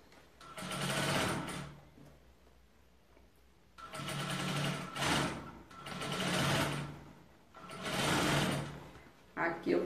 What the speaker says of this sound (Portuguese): Aqui eu vou passar a costura em toda a volta.